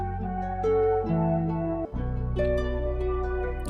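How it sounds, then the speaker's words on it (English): A guitar melody pitched down three semitones in a pitch-shifter plays sustained low tones over a deep bass layer, with a brief dropout near the middle before a steady, full-bodied continuation; no voices. "If we go into the sound shifter and then just pitch the whole melody down by 3"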